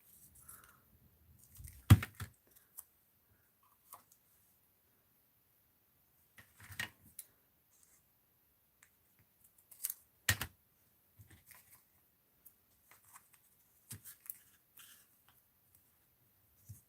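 Scissors cutting craft tape in a quiet room, a few sparse, soft snips and clicks separated by long stretches of silence.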